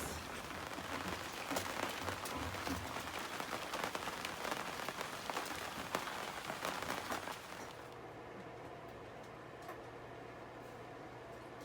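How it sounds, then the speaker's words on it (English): Heavy rain pours steadily outside a Nordhavn boat, a dense hiss of drops drumming on surfaces that drops to a softer patter near the end, while a low engine hum continues underneath. "Kind of glad it's raining lots."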